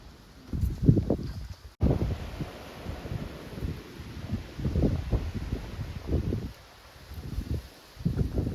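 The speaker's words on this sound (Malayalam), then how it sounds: "ഇവിടെ നല്ല കാറ്റ് വരുന്നുണ്ട്," Gusts of wind sweep through a dense forest at Nelliyampathy, coming as loud, rumbling buffets against the microphone that swell and fade in several waves, with no voices.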